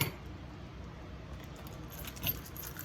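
Keys jangle faintly in a lock left in a door at 3 a.m., a soft, steady metallic rattle with one brief louder clink near the end, heard alone without voices.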